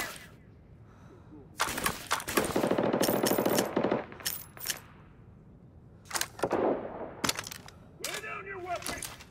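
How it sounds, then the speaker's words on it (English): Suppression gunfire in a video game: several loud bursts of rapid automatic shots, the longest lasting about three seconds, then shorter volleys separated by quiet gaps. "Request suppression fire."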